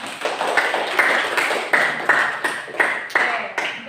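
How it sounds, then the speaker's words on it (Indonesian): Applause for a student's answer about melting polar ice in a classroom lesson: a small group clapping in a steady, evenly spaced rhythm, moderately quiet, with no voices over it. "Tepuk tangan untuk jawaban ini."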